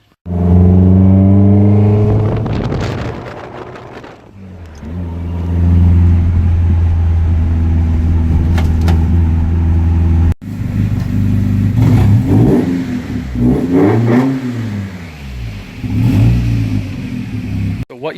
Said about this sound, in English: What you heard there was Jordan's 240SX